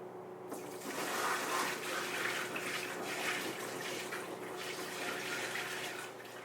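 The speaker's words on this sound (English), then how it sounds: "let's go ahead now and put some water in slowly but surely" Water poured slowly into a repaired fish tank used as a bonsai pot tank, a steady, soft splashing trickle that starts abruptly and runs evenly throughout.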